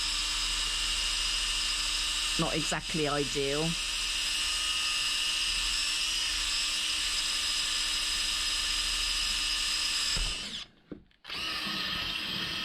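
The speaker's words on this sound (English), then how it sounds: "So this is just a cheap drill, but it does the job." A small, cheap electric drill whines steadily, boring into driftwood at close range, with a brief voice speaking early on and a short pause near the end.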